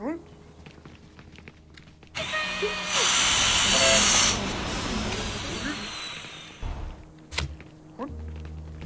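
A power saw whirs up in the Little Big Workshop video game: a loud hissing burst that holds for about two seconds, then fades into softer thuds and clatter while someone talks.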